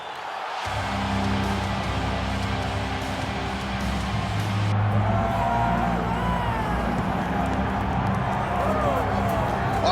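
A dense arena crowd roars steadily in a simulated UFC heavyweight bout, Pavlovich versus Aspinall, a broad continuous swell that stays loud throughout while commentators talk over it.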